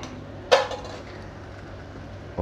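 A single metallic clank of a chicken dum biryani pot lid lifted at once, then quiet kitchen background hum with a faint clink at the end.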